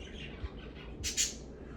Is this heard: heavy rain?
no